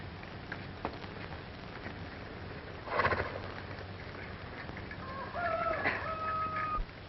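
A horse snorts and shifts nearby, then gives a short, high whinny toward the end over a quiet outdoor background, from a 1936 American Western film.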